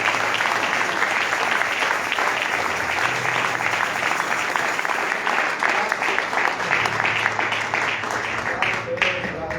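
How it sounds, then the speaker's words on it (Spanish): A church congregation applauds the Lord during a bilingual Spanish-English sermon, steady dense clapping filling the room for the whole stretch, with voices mixed in beneath. "Si le puede dar un aplauso a nuestro Señor."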